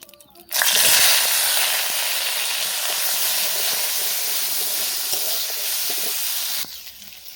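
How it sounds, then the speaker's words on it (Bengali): Raw onion and green chilli hit hot oil with a sudden loud hiss that stays as a dense, steady sizzle before cutting off near the end. "কাঁচা পেঁয়াজটাকে তেলে দিয়ে দেবো।"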